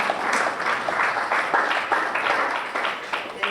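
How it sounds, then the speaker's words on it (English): A keynote audience at an independent media conference claps in a steady round of applause, moderately close, with individual hand claps audible and fading slightly toward the end. "You're supposed to clap for that."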